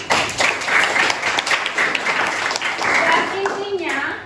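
A school class claps hands together during a lesson, a lively, uneven patter of many hands with children's voices mixed in near the end.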